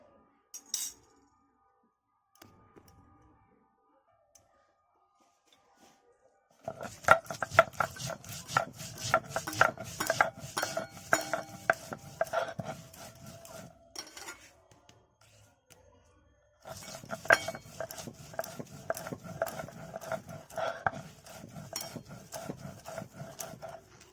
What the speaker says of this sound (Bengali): সাদা সর্ষে 2 চামচ বেটে নেব।